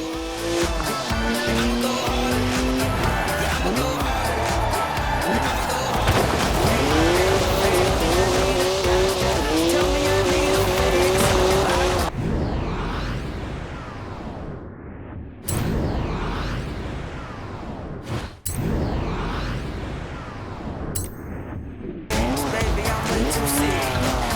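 A Forza Horizon 4 car with a 3-litre twin-turbo straight six engine of 335 horsepower roars as it drifts, its tires squealing in long sustained howls, then cutting out and returning in short bursts of engine and skid noise.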